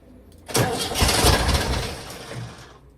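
A 1967 VW Type 3 Squareback engine cranks close by during a tune-up, a loud, rough, continuous churning lasting about two seconds before it fades out.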